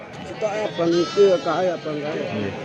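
Pregnant Jawa Randu Super goats bleating at a livestock market in Ngoro, Jombang, several wavering close calls in quick succession while a person talks alongside.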